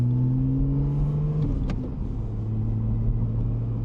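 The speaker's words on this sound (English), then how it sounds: "one of the highlights of this car, of course, is the noise, is the exhaust" Porsche 718 GTS 4.0 exhaust droning loud and close, a steady low engine note with a brief shift in pitch midway, running continuously without any talking.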